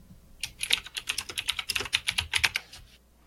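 Quick keystrokes on a computer keyboard patter in an irregular burst of about a dozen and a half close clicks, fairly soft and with no voices.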